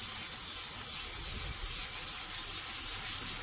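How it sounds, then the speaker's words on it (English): Steady, close abrasive sanding of epoxy-coated sills on a Hillman Imp Mk 1, a continuous bright rasping hiss that rises and falls slightly with each stroke, with no talk. "it's not difficult to sand"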